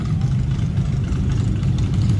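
An old Jaguar body on a four-wheel-drive chassis with a diesel engine, idling at the Redneck Rumble event. The engine gives a loud, close, steady low rumble with an even chug and no talk over it.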